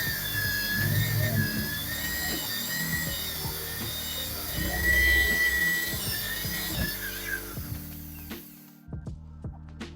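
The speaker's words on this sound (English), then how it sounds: "hold the dust collector and just start drilling." A power drill whines steadily while grinding through a wood panel, with a dust collector held beneath, scraping and knocking, then stops near the end leaving quiet clicks.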